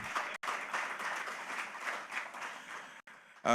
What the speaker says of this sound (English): You have to clap louder.